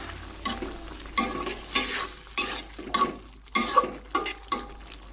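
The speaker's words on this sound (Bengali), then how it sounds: "এদিকটায় রান্না করছি চিংড়ি ভুনা, এবং এখন চিংড়ির মধ্যে আমি ধনেপাতা দিয়ে দিচ্ছি।" Prawn bhuna sizzling in a pan as coriander leaves go in, with repeated rhythmic bursts of stirring and scraping over a continuous frying hiss, close and fairly loud.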